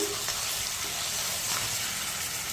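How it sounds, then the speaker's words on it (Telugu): Ginger garlic paste frying in hot oil with fried onions for a mushroom curry, a steady close hiss of sizzling with a faint clink or stir near the start, no talking. "ఇప్పుడు మనం అల్లం వెల్లుల్లి పేస్ట్ వేసుకుందాము."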